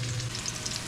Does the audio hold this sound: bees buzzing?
no